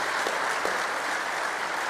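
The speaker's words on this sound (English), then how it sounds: "please give her a round of applause as well" Steady applause from a large crowd at a ballpark groundbreaking ceremony, dense and even throughout without a break, heard from a distance.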